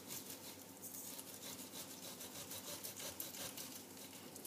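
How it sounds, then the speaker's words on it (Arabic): A knife slices through raw chicken breast on a board, giving a continuous close scraping and rubbing texture of steady cutting strokes with no talk. "توا باش نقص صدر الدجاج."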